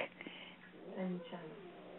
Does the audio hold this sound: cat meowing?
yes